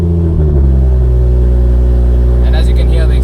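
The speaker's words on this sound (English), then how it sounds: "And as you can hear, the exhaust is still very loud." A BMW M240i with the B58 engine idling loudly through its exhaust, a deep, steady rumble that settles after a brief rise, heard close up with talking over it.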